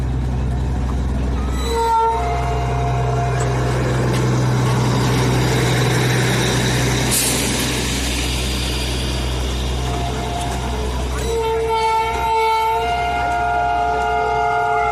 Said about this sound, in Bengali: ওই দেখো নিচ থেকে টয় ট্রেন আসছে